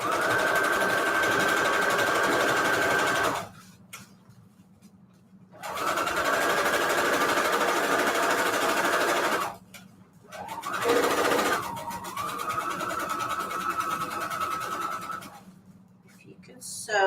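A sewing machine stitches a seam on string quilt patchwork, a steady close mechanical whir running in long stretches with brief stops, while a person talks over it.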